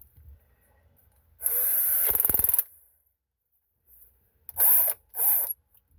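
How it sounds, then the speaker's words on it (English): A power drill whirs loudly for about a second, stutters briefly, then after a pause two more short bursts of drilling follow, during wiring work on a 1933 Plymouth coupe street rod. "Now let's get going drilling on the other one right away."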